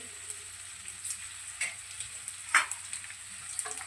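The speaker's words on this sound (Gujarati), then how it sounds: "આ ભાજીનું તેલ મુકાઈ ગયું અહીંયા ભાઈ તો ભાજીનો વઘાર કરે છે" Leafy greens are tempered in hot oil with a quiet, steady sizzle, broken by a few brief scraping or stirring clicks.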